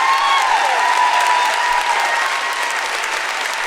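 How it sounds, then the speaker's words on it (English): Loud, continuous applause from a crowd at a live political event in Cleveland, a dense wash of clapping with scattered cheers that holds steady for several seconds without talk. "Just gonna air out that applause."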